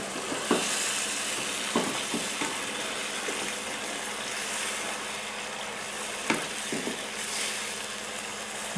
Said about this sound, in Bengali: এটাকে আমি একটু নেড়ে দিচ্ছি।